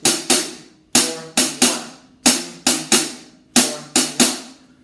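A drum set played in a lesson demonstration: clean, sharp strikes in repeating groups of three, four short phrases of close, loud hits with quick decay and silence between, no talking.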